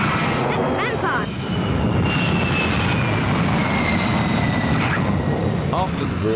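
A de Havilland Vampire jet aircraft flies overhead, its steady, loud roar holding throughout with a slowly shifting whine, with brief voices audible under the engine noise.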